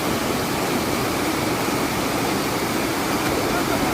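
A waterfall beside a river near Gudalur roars as a loud, dense, steady rush of falling water that fills the whole clip without a break.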